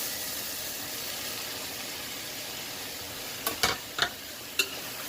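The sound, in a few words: stir-frying potatoes, carrots and mushrooms with onion and tomato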